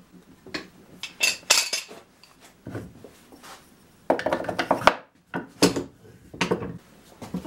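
A wide chisel paring into oak, freshly stropped on felt, giving a series of close, crisp scraping and cracking cuts in uneven bursts separated by short pauses.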